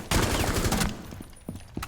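A burst of rapid gunfire in the video game Rainbow Six Siege, a loud close volley of shots lasting under a second, followed by a few scattered quieter impacts and clicks.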